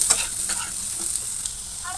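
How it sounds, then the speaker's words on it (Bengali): Jackfruit seeds frying in a pan while being stirred, a bright steady sizzle broken by quick scraping and clinking strokes, loud and close with no voices. "এই যে দেখেন ভাজা ভাজা করে নিয়েছি"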